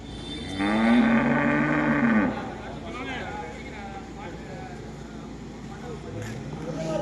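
Cattle moo at a busy livestock market, one long loud low moo near the start and another brief one later, over a constant crowd and vehicle din.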